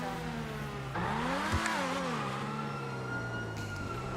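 In GTA 5 a Progen GP1, the game's McLaren F1 GTR, drones at a steady pitch, then rises in a rev that settles back into an even engine tone.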